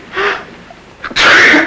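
A single sharp sneeze, preceded by a brief inhale, close and fairly loud in a barracks room.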